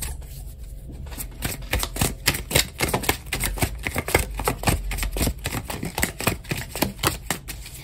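A deck of tarot cards being shuffled by hand, a rapid run of crisp riffling clicks and flutters close up, with no voices.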